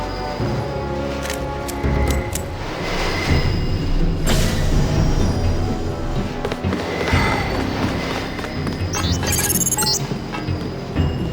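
Train rumble and clatter in the Deus Ex video game fill the scene with a loud, continuous rolling noise, broken by sharp metallic knocks and a brief high screech near the end.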